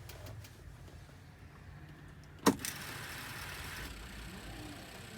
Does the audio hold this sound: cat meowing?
no